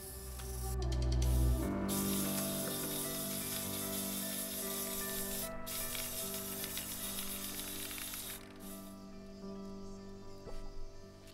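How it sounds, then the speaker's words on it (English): A can of silver spray paint hisses in bursts as a prop rifle gets its coat, with loud close spraying at first, then steadier hissing, a short pause and a few final sputtering sprays. "they're sprayed with Plastidip and a coat of silver spray paint"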